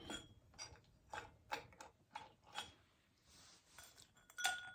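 An ice cube clinks against a glass of whiskey in a series of light, sharp taps spaced about half a second apart, quiet and close, with a final brighter clink.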